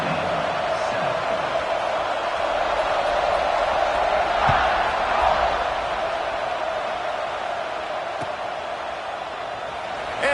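A football stadium crowd roars in a continuous, loud wash of cheering and noise during a college game, steady throughout with a few faint thuds.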